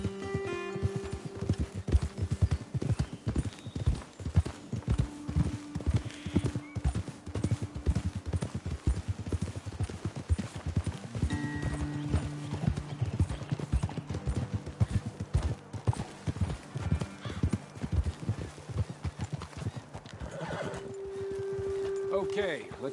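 Horse hooves clip-clop steadily on open ground in the video game Red Dead Redemption 2, with occasional neighs and whinnies over a musical score, while characters talk at intervals.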